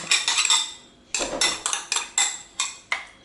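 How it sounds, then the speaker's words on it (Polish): Cutlery clinks and scrapes in a bowl while Swiss salad with mustard, mayonnaise, salt and pepper is mixed, in quick rhythmic bursts with a brief pause midway, close and fairly loud. "sałatkę należy dokładnie pomieszać"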